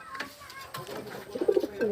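Soft, low cooing of racing pigeons close by, a few throaty warbling calls rising toward the end over light background noise.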